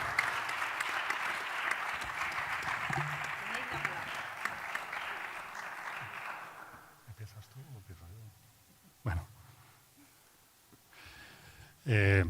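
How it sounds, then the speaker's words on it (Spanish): Audience applause at a book presentation at the Ateneo de Madrid fills the first half strongly, then fades out, leaving quiet room noise with a few voices and scattered sounds. "Un fuerte aplauso"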